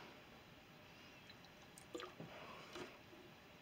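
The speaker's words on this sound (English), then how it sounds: "We need just a touch of water." Small splash and trickle of water poured into a Canadian military ration pouch of pulled pork, a few brief close wet drips and squishes over quiet background.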